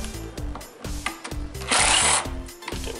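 A power tool removing screws from the radiator support of a VW Jetta MK5, with repeated short whirring bursts and a longer sustained run up close.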